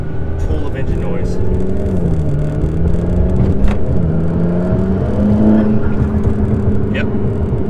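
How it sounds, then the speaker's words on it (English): A 2012 McLaren MP4-12C V8 engine drones loudly and deeply, pitch rising and falling as it revs, a continuous mechanical roar throughout. "one last pull of engine noise."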